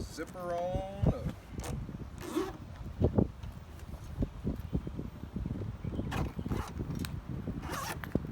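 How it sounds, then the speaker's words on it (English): A zipper on the window of a 2018 Jeep Wrangler JL soft top is pulled closed in several close, rasping strokes, mixed with fabric rustling and handling noises, while someone talks now and then. "Just zipper on up."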